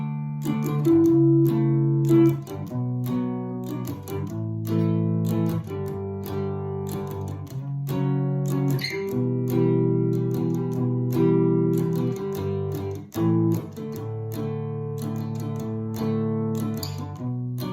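A three-string cigar box guitar plays a rundown passage of chords and single notes, steady and close, alone with no voices.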